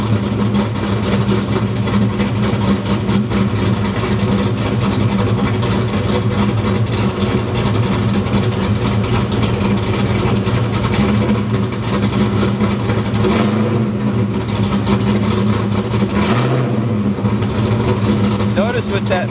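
A Foxbody Mustang engine, fuel tuning under way, runs loud and steady close by with repeated throttle tip-ins, its low drone rising and falling, while a voice talks over it.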